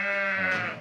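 A young Arashan ewe lamb, one of a fat-tailed breed group in a farm setting in Panfilov district, lets out a single loud, close bleat lasting under a second, steady and nasal before tapering off, with no voices over it.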